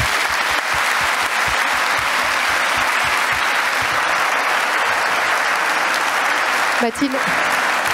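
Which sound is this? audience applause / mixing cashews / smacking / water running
audience applause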